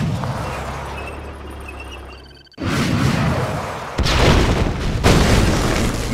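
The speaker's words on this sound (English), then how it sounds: "Missile launch confirmed." Missile launching in the real-time strategy game Command & Conquer: Yuri's Revenge, a loud rumbling boom with a rushing roar that surges in after a brief lull and builds in heavy waves.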